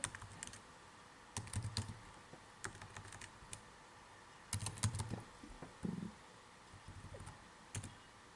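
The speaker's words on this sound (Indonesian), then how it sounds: "Saya ketik lagi." Someone types on a computer keyboard while working in Matlab, producing short irregular bursts of close, crisp key clicks separated by brief pauses, with no speech.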